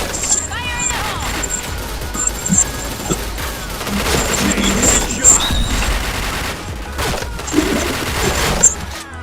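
A shooter video game erupts with a thrown grenade's blast amid rapid bursts of automatic gunfire and sharp crashes, loud and continuous, with game voice lines and electronic tones cutting in over the action.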